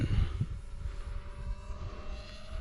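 A balsa wood model airplane flying with its propellers whirring, a steady distant buzzing drone with low wind rumble and no voices.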